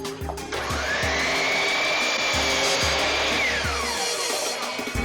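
A compound miter saw spins up and cuts through a board, its loud whining motor steady for several seconds with a rising tone as the blade bites into the wood, then winding down.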